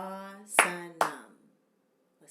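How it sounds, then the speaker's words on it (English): Two sharp hand claps about half a second apart, close and fairly loud, each landing over a sustained sung or chanted tone that fades out, followed by a faint third onset at the end, keeping a rhythm during a yoga sutra recitation lesson. "So listening to the rhythm, I'll also clap it."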